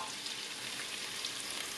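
Steady, dense sizzling of onions frying in hot oil in a roomy pot, continuous and close, with no voices.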